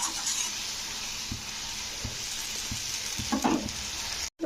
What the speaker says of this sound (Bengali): তো টমেটোটাকে কষে নিতে হবে।